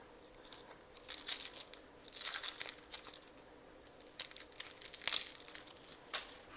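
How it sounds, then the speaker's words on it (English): Dry, papery outer skin is peeled off an onion close up, with quiet crackling and crinkling in several short bursts separated by brief pauses, and no voices. "Then I'll peel off this dry, papery outer layer of skin"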